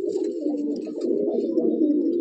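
A Madrasi beater pigeon coos continuously in low, throaty rolling notes, close and steady, with faint higher chirps from other birds in the loft behind.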